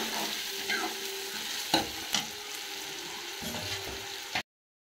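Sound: onion frying and being stirred in oil

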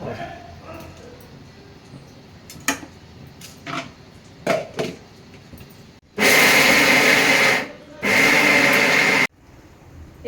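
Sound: mixer grinder grinding soaked jowar (sorghum) into coarse rava

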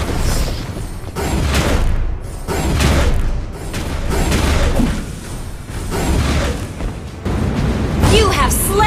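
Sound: turret being destroyed, explosion in a MOBA video game

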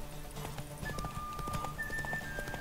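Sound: horse galloping hooves in The Witcher 3 video game

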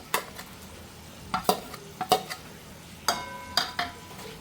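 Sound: masala paste being stirred into oil for crab curry

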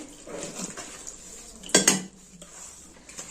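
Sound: whisking rice batter in a bowl

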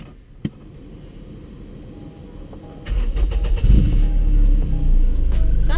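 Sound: car engine revving

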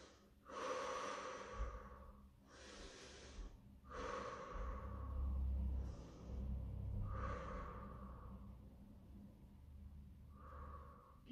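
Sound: heavy breathing during a stretching workout

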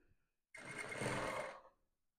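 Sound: sewing machine sewing shoulder seams of a buba top

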